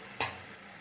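Green-paste chicken masala with drumsticks, coriander, green chillies and ginger-garlic paste, stirred and fried in a pan: one brief scrape-and-sizzle burst over a quiet steady background hiss.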